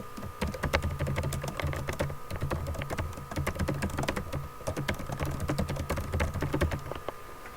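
Steady, fast typing on a computer keyboard, with many crisp key clicks in an irregular rhythm and a low hum beneath. The keys sound close and moderately loud, with no talking.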